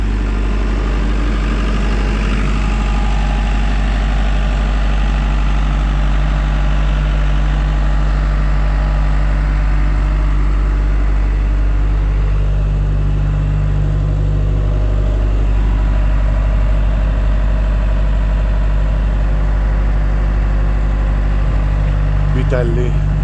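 A Bitelli BB642 gas screed engine idles loud and close on a rocky site, holding a steady low drone that barely changes the whole time. No one speaks over it.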